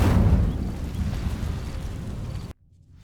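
A fiery Incendio spell bursts with a roaring, rumbling whoosh in Hogwarts Legacy, loud at first and then sustained before cutting off abruptly into near silence.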